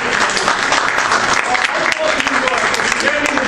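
A meeting audience claps steadily and fairly loudly throughout, a dense patter of many hands with a few voices mixed in.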